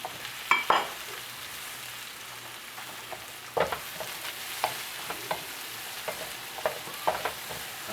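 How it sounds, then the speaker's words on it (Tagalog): Onion added to a hot pan for squash with shrimp and string beans, a constant background sizzle broken by a few louder scraping stirs near the start and lighter spatula taps afterward. "ilalagay na po natin ang sibuyas"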